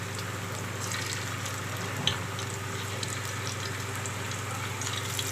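Prawns hiss and sizzle in hot oil in a pan over low heat, a constant, fairly quiet frying crackle with a small pop partway through.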